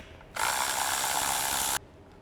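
A ratchet spins steadily for about a second and a half while bolts are undone on a VW T4 camper engine in a workshop, a close, even clicking burst that starts and stops abruptly.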